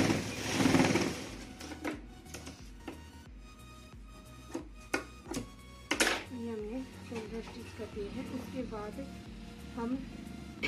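A sewing machine stitches the shoulder seams of an open-front slit-cut kurti, its motor running in short bursts with intermittent clicks, close by, while someone speaks over it.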